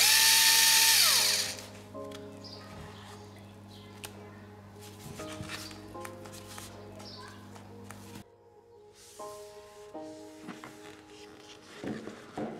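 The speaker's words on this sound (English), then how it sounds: "now I'm going to test the resistance of the screwdriver" A Xiaomi Mijia 3.6V cordless rechargeable screwdriver runs in a few short bursts, whirring close and fairly quiet with pauses between, after an initial loud burst of broadband noise.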